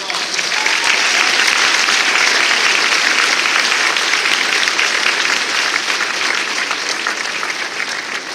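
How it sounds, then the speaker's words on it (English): Sustained audience applause at an NAACP convention in downtown Baltimore fills the room, loud and steady for several seconds, dense clapping from a large crowd with no break. "Let's give them a round of applause."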